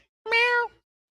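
A single clear cat meow, drawn out for about half a second, close and fairly loud, with silence before and after.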